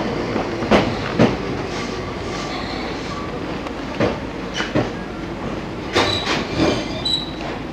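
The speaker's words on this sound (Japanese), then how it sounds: "行き列車が参ります。" A train pulls into a station platform with rumbling wheels, rhythmic clacks over rail joints and brief squeals and hisses, loud and close, while faint station sounds carry in the background.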